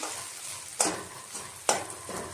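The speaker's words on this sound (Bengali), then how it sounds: "তো এটাকে আমি লাল লাল করে ভাজা করে নিই।" Steady sizzling of food frying in a pan, with two brief scrapes of stirring and no talking.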